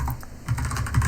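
Rapid clicking keystrokes on a computer keyboard while coding in Rust, close and steady with a burst of quicker taps.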